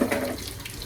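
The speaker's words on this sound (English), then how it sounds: "So Peaches will wash the potatoes" Tap water running in a kitchen sink while potatoes are washed, a brief, close, steady gushing splash with a slight clatter at the start.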